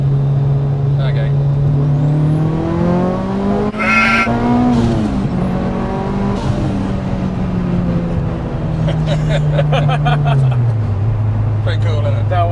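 A 626 bhp Mitsubishi Evo 5 on high boost accelerates hard, its engine note climbing through gears with sharp shift breaks and turbo whistle, loud and close, with people talking over it inside the car.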